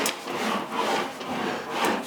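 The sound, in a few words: sanding and blending body filler on car front valence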